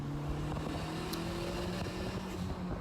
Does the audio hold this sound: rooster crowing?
no